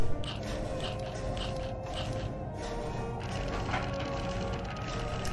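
Wooden case creaking open with clicking gear mechanisms in the hidden-object game Clockwork Tales: Of Glass and Ink, a steady layered ratcheting and creaking texture lasting several seconds, moderately loud with no talking.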